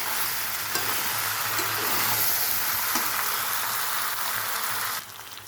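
Mutton being sautéed kosha-style in a pan sizzles loudly and continuously, an even dense hiss with occasional stirring scrapes, cutting off abruptly near the end.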